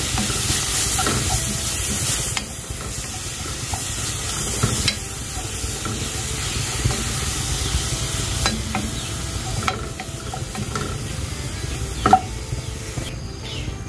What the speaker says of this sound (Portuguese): A carne já começou a refogar.